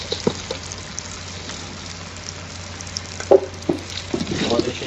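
Hilsa and catla fish fry in oil on an earthen clay stove, giving a steady close sizzling hiss with a few soft clinks and stirring knocks near the end.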